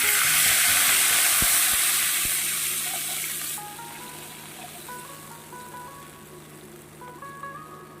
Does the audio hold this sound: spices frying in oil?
yes